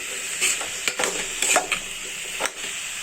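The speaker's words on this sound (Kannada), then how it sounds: "ಉಪ್ಪು ಹಾಕಿದ ನಂತರ ಮತ್ತೆ ಮಿಕ್ಸ್ ಮಾಡಿ" A spoon stirs pumpkin palya in a hot pan after salt goes in, producing a few close, soft scrapes and clatters over a faint sizzle.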